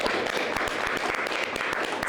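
An audience at a panel event applauds the women present, a dense, continuous wash of clapping from many hands that holds steady throughout, with no voices over it.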